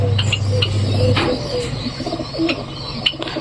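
Pigeons kept for sale cooing nearby, a low throaty coo rolling at the start followed by scattered softer calls, chirps and small rustles from the birds, with no talking.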